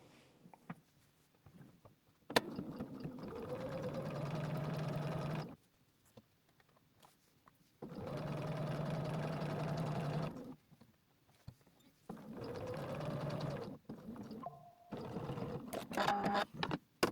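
A sewing machine stitches lines on a welt in three or four steady runs of rapid mechanical whirring, each a few seconds long, with short quiet pauses between them.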